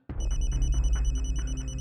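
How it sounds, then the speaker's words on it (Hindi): A phone rings loudly and close, its electronic ringtone starting abruptly and pulsing in a steady repeating pattern. "तभी अचानक से उसका फोन बजा"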